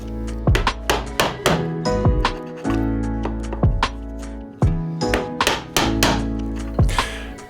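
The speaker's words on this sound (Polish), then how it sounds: "Gniazdo poszerzam i pogłębiam dłutem." Wood chisel striking into a mortise in timber, widening and deepening the drilled pocket: a steady series of sharp, close knocks and thunks in irregular rhythm, loud and alone with no talk.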